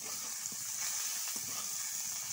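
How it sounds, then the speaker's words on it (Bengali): Chopped potato, pointed gourd and raw banana frying together in a pan: a faint, steady hiss of sizzling oil with a few soft stirring knocks, no talk. "এবার আমি আলু, পটল আর কাঁচা কলা একসাথে দিয়ে একটু নেড়ে ভেজে নেব।"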